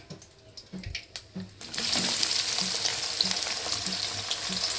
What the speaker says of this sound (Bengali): এবার আমি এই তেলের মধ্যে পেঁয়াজটা সম্পূর্ণ দিয়ে দেব।